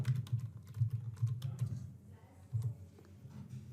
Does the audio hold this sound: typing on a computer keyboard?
yes